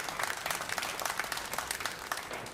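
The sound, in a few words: audience applauding a pool shot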